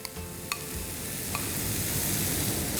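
Vegetable and paneer stuffing with chaat masala is stirred in a pan on the stove, a steady close scraping and soft sizzle with a couple of sharp spoon taps against the pan, no voices.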